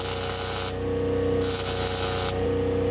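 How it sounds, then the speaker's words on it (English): A spot weld on metal gives a steady, close, hissing and crackling buzz that holds at a constant loudness for a few seconds. "This will be a spot weld."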